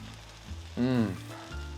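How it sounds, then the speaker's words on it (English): Steady frying sizzle from a sandwich laid butter side down in a hot pan, continuous and close, with a brief tonal squeak rising over it midway. "Listen to that baby sizzle."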